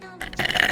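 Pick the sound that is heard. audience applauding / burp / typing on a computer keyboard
burp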